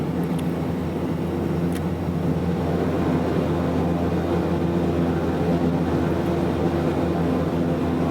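Airliner taking off in Microsoft Flight Simulator 2024, a steady, even engine roar holding constant for several seconds with no voices.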